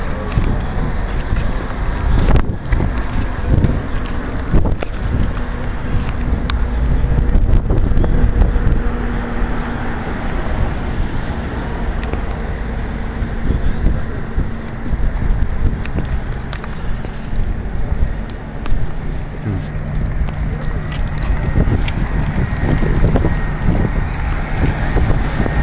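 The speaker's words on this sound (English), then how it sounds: "Lovely wind, that, isn't it?" Strong wind at Hoover Dam buffets the microphone in a constant loud rushing roar with low gusty thumps throughout, while faint background noise sits underneath.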